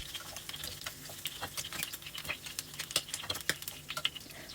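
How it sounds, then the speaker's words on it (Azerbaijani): Onion cooking in a frying pan until its juice dries off, a quiet close scraping and stirring with soft irregular ticks and a faint sizzle underneath. "Soğanın suyu tam quruyanadək tavada qovururuq"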